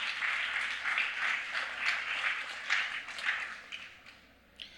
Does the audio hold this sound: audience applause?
yes